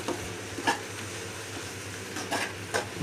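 Beef gravy masala sizzling in a pan while being stirred, a soft continuous fry with a few distinct scraping strokes of the spoon against the pan, fairly quiet and close.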